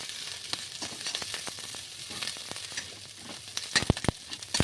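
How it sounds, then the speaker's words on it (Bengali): Large onion pieces and chilli pieces fry in hot oil for chilli paneer, giving a steady close sizzle throughout with a few sharp clinks of a utensil near the end, no voices. "এরপর পেঁয়াজগুলো দিয়ে দিচ্ছি, বড় বড় টুকরো করা যে পেঁয়াজ সেইগুলো।"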